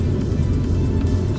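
A 2005 Renault Clio 1.2 16V Dynamique hatchback accelerating through the gears, its engine a steady low rumble heard from inside the cabin, continuous and moderately loud with no talk over it.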